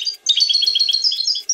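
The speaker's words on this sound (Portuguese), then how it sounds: "Você já ouviu falar da canção do pintacilgo?" A goldfinch sings a rapid, bright run of high chirping and twittering notes. The song is close and clear and is heard on its own.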